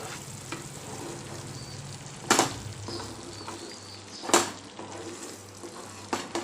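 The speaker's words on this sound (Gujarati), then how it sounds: "થોડા લીલા ધાણા આપણે ઉમેરી દઈશું અને બધું સરસ આપણે મિક્સ કરી લઈશું" Shahi Paneer gravy with kasuri methi and fresh coriander being stirred in a pan, a low steady simmer with a few sharp scrapes of the spoon against the pan, close and without talk.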